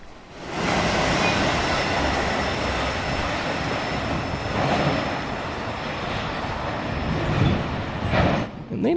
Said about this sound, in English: Okay, 7-minute long train. And it's hauling ass pretty good.